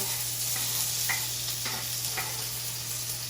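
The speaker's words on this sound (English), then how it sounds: "You should get an immediate sizzle." Steady, loud sizzling of vegetables frying in hot oil, with a few light scraping stirs against the pan.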